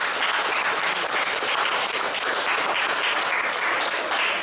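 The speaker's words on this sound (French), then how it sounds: "Je vous demande de l'applaudir bien fort, s'il vous plaît." Sustained audience applause fills the room at an interview event welcoming Olivier Fugen, a steady, dense wash of many hands clapping with no pauses and no voices over it.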